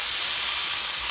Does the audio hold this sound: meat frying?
yes